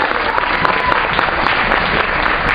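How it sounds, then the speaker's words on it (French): An audience at a Berber music event claps steadily and loudly for performers coming on stage, a dense continuous burst of applause with a faint murmur of voices. "je vous propose s'il vous plaît de les applaudir et de les accueillir"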